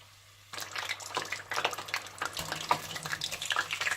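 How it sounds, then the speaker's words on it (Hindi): Rolls of chicken and vegetables deep frying in hot oil, a steady bubbling sizzle that starts abruptly and continues evenly with small crackles, fairly faint and close. "अब मैं इन्हें डीप फ्राई कर लूंगी"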